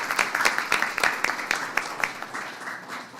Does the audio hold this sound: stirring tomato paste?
no